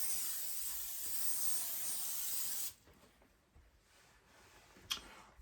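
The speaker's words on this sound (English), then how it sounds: "So I Lysol the box." A can of Lysol disinfectant spray hisses loudly and steadily over a cardboard box for almost three seconds, then cuts off, leaving quiet room tone with a few faint handling clicks and one sharp tap.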